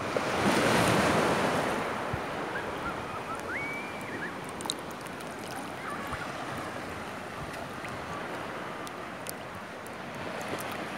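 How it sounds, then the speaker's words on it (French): Sea waves wash onto a deserted beach in a continuous surf roar, louder at first and then easing, with some wind buffeting the microphone and faint distant chirps. "je vous laisse juste pour le bruit des vagues"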